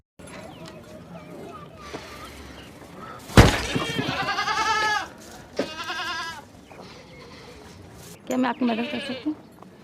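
Goats bleat in a pen set inside an old, long-abandoned building, with several loud, wavering calls in separate bursts over a background of soft rustling and a sharp thump.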